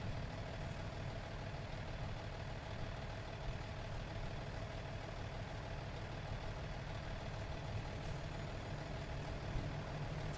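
In the American Truck Simulator game, a Peterbilt 389 with a Caterpillar C15 engine idles with a steady, even low rumble and hum that stays unbroken and moderately loud throughout.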